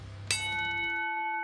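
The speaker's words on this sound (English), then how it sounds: "That bell means it's time for round one." A single bell strike rings out to open round one of a mock bare-knuckle fight between gemstones, a sharp clang followed by a long, clear ringing tone that slowly decays, heard alone.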